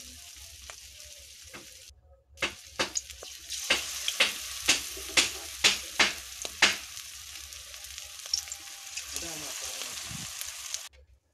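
Pui shak (Malabar spinach) fritters frying in hot mustard oil, a constant low sizzle punctuated by a regular series of sharp clicks and taps as pieces are placed in the pan, close and fairly quiet.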